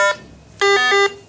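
Two electronic tones from a RATH SmartPhone elevator emergency phone keypad as enter is pressed: a short beep, a pause, then a longer, louder beep, close and clear.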